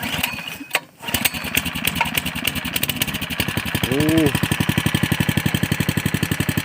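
A motorized snow-towing scooter engine on northern snow runs in a steady rapid chug that picks up and revs louder partway through, close by, after a brief pause near the start, with a voice heard briefly.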